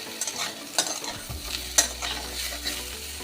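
Jackfruit frying in a covered pan, a close crackling sizzle with repeated stirring scrapes and a low steady hum underneath, brief and with no talking.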